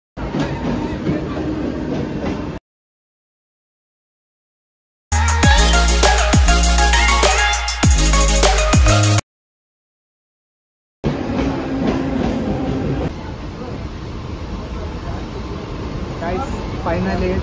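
A local train running between Thane and Airoli, with steady loud rumble and rattle in segments broken by short silent gaps, and people talking over it.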